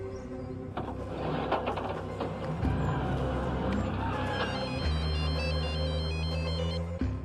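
A phone ringtone chirps in a repeating pattern over a low background hum, with no one speaking.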